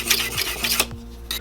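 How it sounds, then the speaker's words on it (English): A knife used to cut foam is drawn against a sharpener, producing quick, rasping scrapes in a close, steady back-and-forth rhythm with no voices. "I sharpen my knife"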